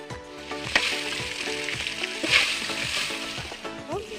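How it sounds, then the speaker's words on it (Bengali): Fish heads fry in hot oil for a mashkalai dal, a steady close sizzle with scraping stirs and small spatters throughout. "মাথা ভেজে নিচ্ছে, মাথাটা ভেজে নিচ্ছে।"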